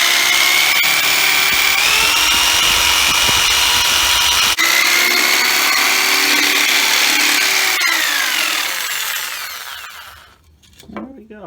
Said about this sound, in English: Now for some of our more precise cuts, that's where the jigsaw comes in.